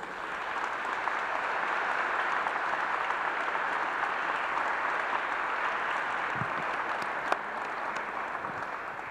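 An audience at a festival talk on the armed forces applauds in a broad, steady wash of clapping that holds at an even level throughout, with a few sharper claps standing out near the end.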